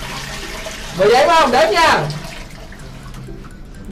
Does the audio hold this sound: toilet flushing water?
yes